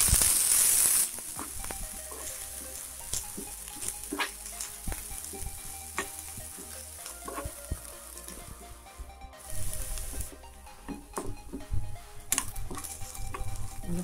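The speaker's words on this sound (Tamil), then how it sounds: "வெங்காயம் பச்சை மிளகாய் கருவேப்பிலை கொத்தமல்லி எல்லாத்தையும் போட்டு நல்லா ஃப்ரை பண்ணுங்க" Onion, green chilli, curry leaves and coriander fry in a pan for a South Indian breakfast batter, with a steady close sizzle, repeated scraping stirs and light clinks of a spoon against the pan, no talking.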